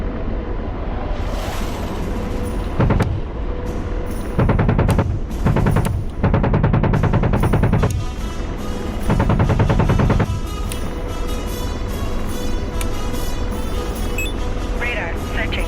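Heavy gunfire in a war video game set in Syria, several loud sustained bursts of automatic fire with pauses between them, over a constant engine-like drone.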